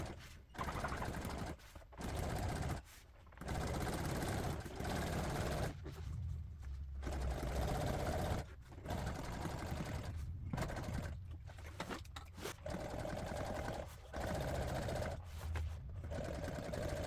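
Sewing machine top-stitching and French-stitching MGB car seat upholstery, running in bursts of steady rapid needle clatter separated by short pauses, close and fairly loud with no talk.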